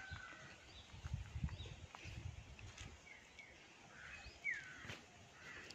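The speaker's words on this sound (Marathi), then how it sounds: "You can hear lot of bird chirping." Birds chirp in a village at morning, faint and distant over quiet outdoor background, with one clearer whistling call near the end.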